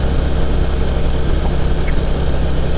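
A Harley-Davidson Electra Glide motorcycle engine runs steadily through engine braking, a loud, close, continuous low rumble with no voices over it.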